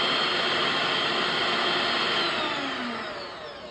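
An electric hand mixer beats a homemade ice cream mixture with a steady, loud whirring drone that holds evenly and then begins to tail off toward the end.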